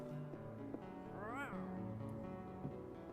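Cartoonish cat meows in a cat cafe management video game, a rising-falling meow standing out over continuous background music and a talking voice.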